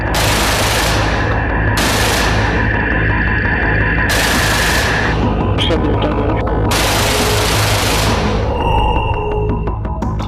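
Rapid bursts from the 30mm single-barreled GSh-301 cannon of a Su-27 fighter jet, several loud, dense stretches of fire with a roaring engine backdrop, under a narrating voice.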